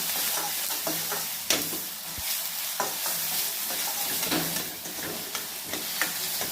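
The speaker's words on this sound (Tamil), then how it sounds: "பொறுமையாக கொஞ்சம் வதக்கலாம் நல்லா கொஞ்சம் உப்பு சேர்த்தா வெங்காயம் சீக்கிரம் வதங்கும்" Onions sauté with salt in a pan for vatha kuzhambu, a steady sizzle broken by repeated scraping stirs of a spoon at an uneven rhythm, close and fairly loud, with no talking.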